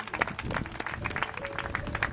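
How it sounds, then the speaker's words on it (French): Scattered applause from a small audience at an equestrian show after a carousel display by riders, sounding fairly distant and thin, with irregular claps rising and falling. "Vous pouvez les applaudir très fort, elles ont très bien réalisé."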